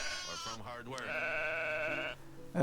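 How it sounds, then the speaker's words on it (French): A sheep in the medieval village-building game Medieval Dynasty gives a long, wavering, close bleat that trails off, followed by a short sound at the end. "il y a 3 cases et ils vont pouvoir nous refaire des petits moutons"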